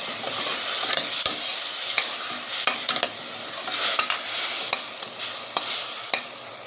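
Spiced Malabar spinach and prawn curry fries in a pan while a utensil stirs it repeatedly, sharp scraping knocks over a steady close sizzle, with no talking.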